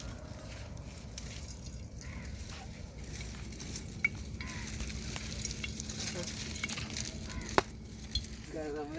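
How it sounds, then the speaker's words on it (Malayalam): Mustard seeds spluttering and sizzling in hot coconut oil in a pan while cooking a giant mud crab roast. A steady close crackle runs throughout, with a few sharper pops standing out. "നമുക്ക് അതിലോട്ട് കടുക് ഇടാം."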